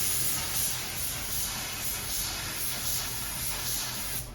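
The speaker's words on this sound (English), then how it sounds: "I would narrow it down like this and spray like this" A paint spray gun with a narrowed fan pattern sprays inside a grill: a steady, continuous hiss runs throughout, even and unbroken, close up, with no voices.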